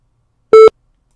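A single short, loud electronic voicemail recording tone, one steady pitched beep in silence.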